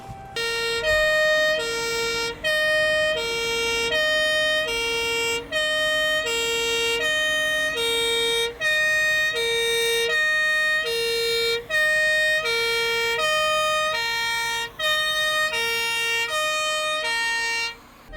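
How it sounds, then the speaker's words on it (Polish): A Scania fire truck from Keflavik fire station in Iceland sounds its siren loudly and steadily, a repeating two-tone wail cycling evenly for the whole stretch, close and alone with no voices. "Postaram się Wam zaprezentować jeszcze sygnalizację dźwiękową"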